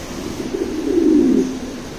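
Silver show king pigeons in a running pair cooing, one low throaty coo swelling and fading over a couple of seconds, close and clear against a quiet background.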